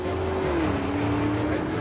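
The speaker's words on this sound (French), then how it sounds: "Moteur électrique et V8 essence, ça envoie." Porsche Cayenne Coupé Turbo S E-Hybrid, pairing an electric motor with a petrol V8 and 680 horsepower, pulls hard in a loud, close, continuous engine roar whose pitch shifts briefly.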